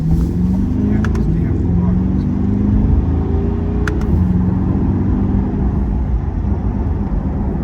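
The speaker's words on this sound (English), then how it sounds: "You can hear right now there is quite a bit of road noise" Steady low rumble of tires and engine inside a moving Corvette C8 Stingray, loud and constant throughout, with a few faint ticks above it.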